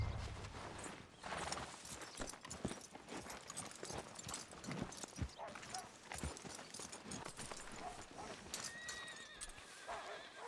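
Horse hooves clip-clop steadily in a Western open-world video game, with a whinny rising above the busy, continuous game soundscape of ambience and music.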